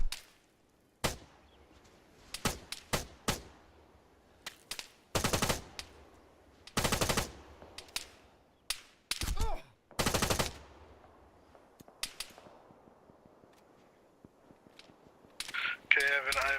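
Bursts of automatic gunfire and single shots in a military video game, loud and close, in irregular volleys of varying length with short pauses between them, faint talk and game noise underneath.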